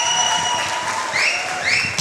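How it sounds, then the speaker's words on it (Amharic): An audience claps for a teenage girl who has just recited her own poem at a comedy event. The applause is steady and fairly close throughout, with faint whistle-like tones over it. "ሞቅ አድርጋችሁ አጨብጭቡላት ለዚህ ታዳጊ ልጅ"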